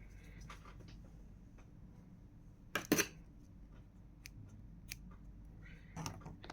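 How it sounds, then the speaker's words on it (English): Scissors snipping through crochet yarn, one sharp close double snip standing out over a quiet room hiss, followed by a few faint ticks and a softer snip later. "now we will cut the yarn"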